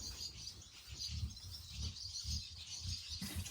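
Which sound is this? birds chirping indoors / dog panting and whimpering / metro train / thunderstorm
birds chirping indoors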